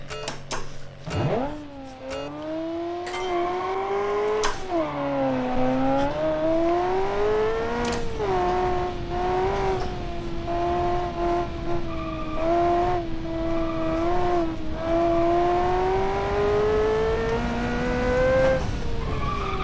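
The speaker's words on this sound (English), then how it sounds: "I like the engine model. Full throttle." A car engine in the BeamNG driving game runs at full throttle, a loud sustained howl that climbs in pitch through the gears, with tire squeals and brief skids along the way.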